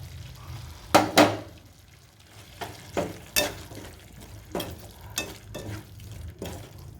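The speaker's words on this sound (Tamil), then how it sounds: "இப்போ அந்த வதக்கி வச்ச வெங்காயத்தை அதில் சேர்த்துப்போம்." Sautéed onions being tipped and stirred into a simmering onion gravy in a home kitchen, heard as quiet, steady bubbling broken by several sharp, irregular scraping and splattering bursts, with no voices.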